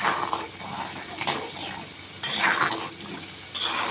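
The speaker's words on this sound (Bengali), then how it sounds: "গুঁড়ো দুধও একটু দিয়ে দিচ্ছি এখন ভালোভাবে এটা মিশিয়ে নিচ্ছি" Milk powder being stirred into a dish in a cooking pan, giving continuous close scraping and stirring noise with a few stronger strokes, fairly loud and steady.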